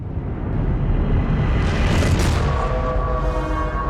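A Dreadnought bombarding an enemy base in Star Wars Battlefront 2, a loud, continuous rumbling roar of heavy explosions that swells and holds throughout.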